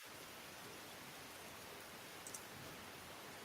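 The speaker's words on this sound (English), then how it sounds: "I like the rain, so we're gonna put the rain back on" Steady rain ambience playing as a background sound effect, an even wash of falling rain and patter with no distinct drops standing out, soft and constant throughout with no talking.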